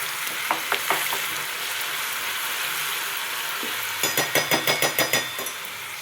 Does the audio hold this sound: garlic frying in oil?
yes